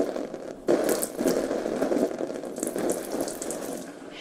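Water pours steadily from a container onto houseplants, a continuous splashing, gurgling wash with a few brief scraping or clicking touches. The flow is close and moderately loud throughout.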